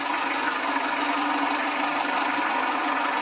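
A small cab's engine runs steadily throughout, a continuous rumbling roar with no pauses and no voices.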